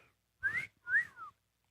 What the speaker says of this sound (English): that's a wolf whistle. You've now heard one.